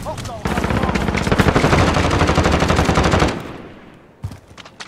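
Rapid automatic P90 gunfire in a video game, a loud sustained burst of tightly spaced shots lasting about three seconds, then fading into a quieter tail with a couple of faint later pops.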